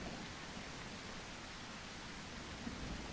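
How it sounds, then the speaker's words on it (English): Rain falls in a dinosaur survival video game as a soft, even hiss that stays faint and unbroken, with no voices over it. "Oh, well, it's raining."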